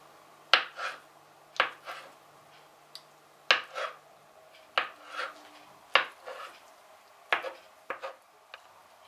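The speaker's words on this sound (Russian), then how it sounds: "Яйца нарезаем на кубики." A knife dices boiled eggs on a cutting board for a festive corn salad, producing about a dozen sharp, close chopping knocks in an uneven rhythm, quiet and alone with no talk.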